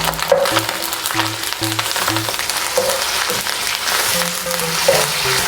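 Tomatoes fry with ginger and garlic in a pan for kaleji masala, a continuous close sizzle with crackling spatter, and the spoon knocks and scrapes repeatedly as the mix is stirred.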